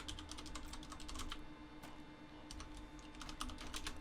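Quick bursts of keystrokes on a computer keyboard, fairly faint and close, come in uneven clusters with short pauses between them, and no voices are heard.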